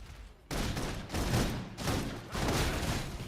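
Bursts of rapid video-game suppression gunfire rattle in several sustained volleys separated by short pauses, sounding somewhat distant and muffled.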